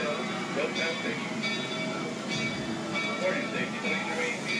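Rail car of a tourist train at a ghost town rumbling and squealing as it slows into the station, a steady near, loud rolling noise with talk over it.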